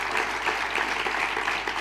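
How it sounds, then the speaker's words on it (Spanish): Audience clapping at a theatre award ceremony at the Almagro classical theatre festival, a continuous even patter of applause filling the hall without a break. "Mira, decía, y un aplauso, sí"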